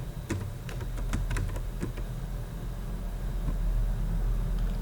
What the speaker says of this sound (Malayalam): ടൈപ്പ് ചെയ്യുക.